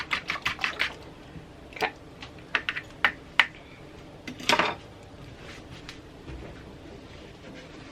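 A whisk beats egg batter for fried green tomatoes in a bowl in an RV kitchen: quick bursts of close, sharp clicking with short pauses between them, and one brief spoken word.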